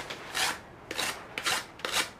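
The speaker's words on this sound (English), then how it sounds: "I'll give it a wood rasp anyways, just to so it's not smooth" A wood rasp scrapes carved foam shaped into a snake-wall game terrain obstacle: four coarse, breathy strokes in a steady rhythm, close and clear with no talk.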